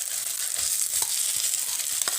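Mashed potatoes sizzle and fry in a pan with cumin, onion and green chili, giving a steady bright crackle, with a few soft stirring knocks near the end.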